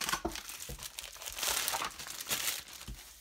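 Crinkling plastic of a small parts bag for a DeAgostini Star Wars Millennium Falcon model kit being handled and opened, irregular close rustles and crackles in bursts.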